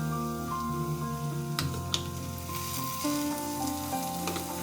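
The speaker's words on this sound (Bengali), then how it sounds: "আমরা যে পেস্টটা বানিয়ে রেখেছিলাম সেই পেস্টটা এখন আমরা কড়াইয়ের উপরে যোগ করে দেবো" A spice paste sizzles and fries in a wok for a potol prawn curry, a steady crackling hiss with occasional stirring scrapes and a brief clink, close and moderately loud with no talking.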